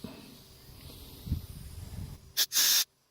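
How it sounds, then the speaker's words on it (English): Compressed air blasts through the carburetor passages of a Toro CCR2000 snowblower outdoors: a faint rustle first, then a short sharp hiss followed by a longer, loud, steady jet that cuts off abruptly. "blow out some of these passages with some compressed air"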